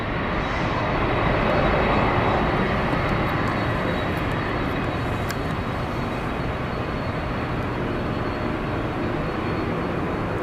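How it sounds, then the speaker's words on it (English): FedEx Boeing 777 freighter arriving at Seattle from Memphis, a broad steady roar of jet engines filling the whole stretch, loud and sustained as it comes in. "FedEx 777 freighter that just came in, was coming in from Memphis"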